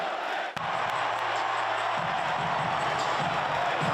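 A basketball arena crowd roaring nonstop, a loud, dense wall of cheering and yelling that holds steady throughout, with a brief sharp knock near the start.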